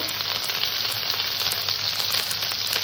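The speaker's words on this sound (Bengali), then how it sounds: "আদা বাটাটাকে আমি হালকা করে একটু কষে নেব।" Ginger paste and tomato fry in a pan with a steady, even sizzle that holds unbroken throughout at close range, with no voices.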